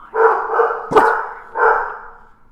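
A dog barks close by, a drawn-out bark followed by a sharp one and another long bark.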